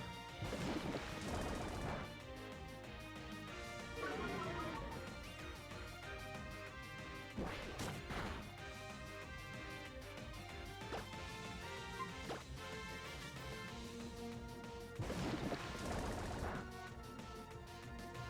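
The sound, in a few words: battle attack hits in video game Pokemon Omega Ruby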